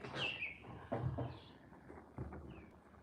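Faint, high chirps and twitters from barn swallows, a few scattered calls over a quiet background.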